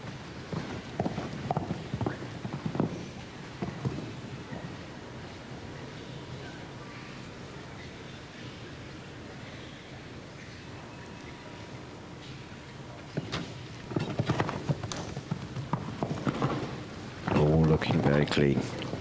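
Show-jumping horse hooves clip-clop on the course at a Volvo World Cup event in the Netherlands, with irregular thuds that come in bursts near the start and the end, mostly fairly faint against arena ambience.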